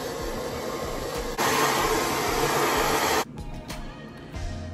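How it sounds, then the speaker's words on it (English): A blow dryer drying hair on its low setting gives a steady whooshing rush that jumps louder partway through, then cuts off, leaving quieter room sound with a few soft clicks. "So with this blow dryer, I feel like it dries my hair super quick."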